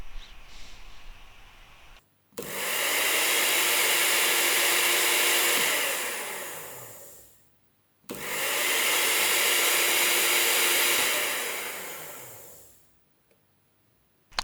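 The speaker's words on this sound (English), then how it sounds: "And now it's time for testing it with the universal motor." A universal motor from a Lidl SilverCrest smoothie maker runs under bench testing in two loud bursts of about five seconds each. Each burst spins up into a steady roaring whine, then winds down, with a short silence between them and no talk.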